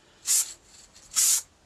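Two short bursts of aerosol etch primer spray, each about a quarter second, a steady bright hiss with a brief quiet pause between them.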